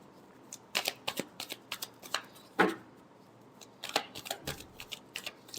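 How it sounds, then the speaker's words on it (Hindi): Tarot cards being shuffled by hand in a quiet room, a series of crisp riffling bursts and soft flicks repeating irregularly over several seconds, close and clear with no talking. "Last shuffle."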